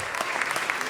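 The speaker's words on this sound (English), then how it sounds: "you ought to give them a big round of applause" Applause from the audience at a city council meeting, honoring a Little League District 25 all-star team: steady, dense clapping that fills the whole second at moderate volume, with no speech over it.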